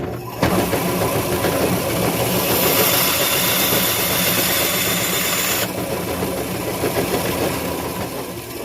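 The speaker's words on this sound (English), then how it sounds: "This bandsaw's got a real fine blade on it, and it will cut through this soft brass with no problem" A bandsaw fitted with a fine blade cuts through soft brass, a steady loud mechanical whine and rumble running for the whole stretch, with a brighter high edge that drops away partway through.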